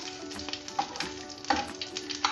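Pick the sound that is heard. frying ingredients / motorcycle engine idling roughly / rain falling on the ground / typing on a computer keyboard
frying ingredients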